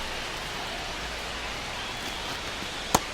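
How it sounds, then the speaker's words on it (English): Steady rain hisses over a baseball stadium during a game, a continuous broadband wash with no voices, broken near the end by one brief sharp knock. "This rain is not letting up."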